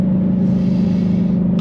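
The engine of a 2022 Ford Shelby GT500 with a dual clutch transmission drones loudly and steadily from up close, its deep, even hum barely changing through a quick upshift.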